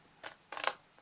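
Two quick, close snips of scissors cut a dart into paper, the second a longer crisp slicing stroke, quiet with no talk.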